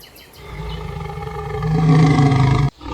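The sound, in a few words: lion roaring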